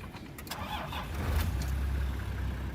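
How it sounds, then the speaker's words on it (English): A 4WD car's engine is started with a pair of pliers on K'gari island, Australia: a short cranking churn turns into a catch and then a steady, low, close idle rumble. "it just means we have to use a pair of pliers to start the car"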